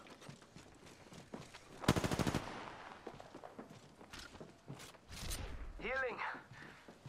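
Gunfire in Apex Legends: a rapid burst of automatic shots near two seconds, then scattered single shots and another flurry later, mixed with footsteps and movement sounds while a player talks over it.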